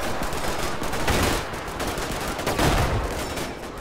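Dense, continuous rifle and machine-gun fire rolls through a WWII battle for Hill 1234 between American and German troops in the Combat Mission game, loud and unbroken throughout.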